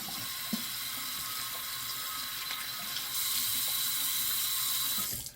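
Cold tap water runs steadily into a sink during a rinse, a constant broadband rush that grows louder and brighter partway through before cutting off at the end, with no voices.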